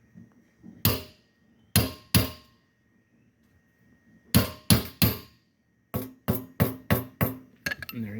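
Steel rivets being hammered into a flat ride cymbal, sharp bright metallic strikes in irregular clusters of two or three, then a fast run of five or six blows, close and loud with no talking.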